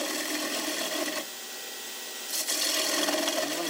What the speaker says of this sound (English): to start up the lathe, bring it up to a comfortable speed and just basically start hollowing out the bowl